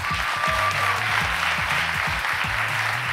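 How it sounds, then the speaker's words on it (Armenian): An audience applauds musicians at a premiere concert with an orchestra present, dense steady clapping throughout, loud and close, with a light murmur of voices underneath. "երաժիշտներին ծափահարություններ"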